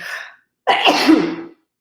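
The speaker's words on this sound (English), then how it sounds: "I think I have to sneeze." A single close sneeze bursts out after a short, sharp intake of breath, followed by silence.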